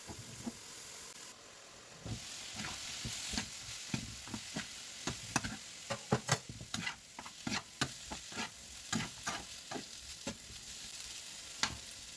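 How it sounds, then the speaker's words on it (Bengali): Lentil dal frying in a pan on a medium-low flame, a steady close sizzle and hiss broken by a run of sharp, irregular spatters and stirring scrapes, with no talk. "আমি আবার একটু ভেজে দিচ্ছি"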